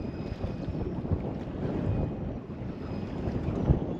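Steady, rough wind buffeting a microphone on a mackerel fishing trip, a low rumbling roar with gusty bumps throughout, over faint water and boat noise.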